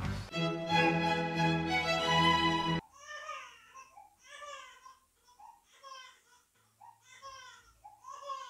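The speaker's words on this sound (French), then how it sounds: "Ne faites maintenant pas attention aux pleurs de ma fille qui sont en train de niquer mon tournage." A young girl crying loudly in sobbing, wailing bursts, then breaking into broken whimpers and short sobs, close and alone.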